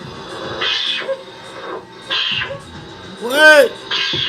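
A cat, heard within a react commentary, gives a short, loud rising meow in the middle, with a person talking before and after it.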